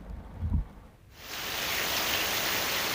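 Heavy monsoon rain pours down in the Gir forest between Sasan and Talala. After a soft thump, a dense, even hiss of rain swells in and holds steady.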